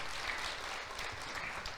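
A church congregation applauds the Lord in a brief, steady wash of faint clapping with no talk over it.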